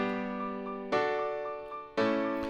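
A stereo-widened mix run through FL Studio's Patcher: sustained synth chords restruck three times, each swelling and slowly fading, loud and alone with no talk.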